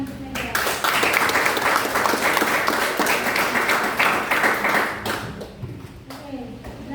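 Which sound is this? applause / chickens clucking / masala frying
applause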